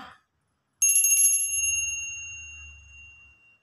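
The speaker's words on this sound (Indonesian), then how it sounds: "saya akan memulai dengan tanda lonceng berbunyi" A single bright bell rings out sharply, its clear metallic tone lingering and slowly fading over a few seconds, with a low hum underneath.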